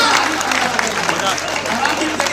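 Audience applause at a comic poetry gathering in Gonda, a dense, steady wash of clapping hands filling the whole stretch at close range, with faint crowd murmur mixed in.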